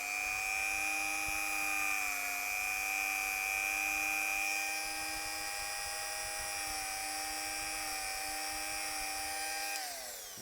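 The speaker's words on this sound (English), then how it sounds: "I changed the wire wheel on the Dremel, because it does such a good job when you put a new one on" A Dremel rotary tool fitted with a fresh wire wheel whines steadily as it scrubs a metal part from a tank engine, a high sustained buzz that dips slightly in pitch partway through and stops near the end.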